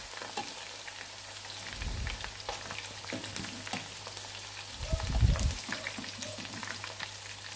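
Chicken 65 deep frying in hot oil, a steady soft crackling sizzle throughout with two brief heavier bursts of bubbling or stirring, heard alone without speech.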